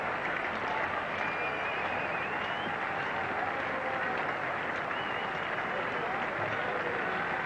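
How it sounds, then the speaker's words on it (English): Cricket crowd at an England versus India Test match in 1986 applauding steadily for the batsman, a dense, even patter of clapping at moderate distance under a commentator's voice. "there'll be lots of applause for Graham Gooch, who has held the England innings together"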